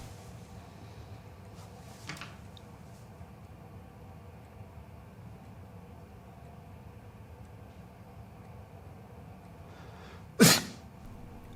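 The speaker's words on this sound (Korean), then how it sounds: "어딘가 엉성한 재채기이지만 효과는 확실했죠." A man lets out a single sudden sneeze near the end, loud and sharp against an otherwise quiet indoor background with faint scattered knocks earlier.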